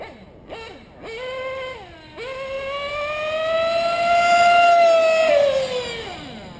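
A modded RCR Vir-tus small two-stroke engine screams at full throttle, blipping a few times before a steady, loud, rising high-pitched wail held for several seconds, then dropping off.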